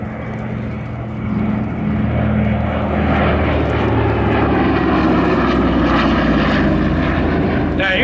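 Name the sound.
propeller airplane flying at air museum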